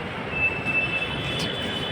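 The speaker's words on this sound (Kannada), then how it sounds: "ಮೆಟ್ರೋ ಬಂತು, ಆ ಕಡೆದು ಮೆಟ್ರೋ ಬಂತು ಗುರು" A metro train pulls into a Bengaluru station platform with a steady rolling rumble and a thin, high wheel squeal, heard close with no talking.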